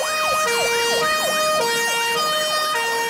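A fire engine's siren wails as the unit leaves the fire station on a house-fire call. It rises and falls steadily in repeated sweeps, loud and close, with a constant higher tone layered over it and no talking.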